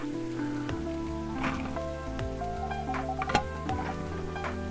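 Rain ambience in the video game Coffee Talk, a soft patter of falling rain running beneath gentle, stepping musical tones with a few sharper drip-like ticks.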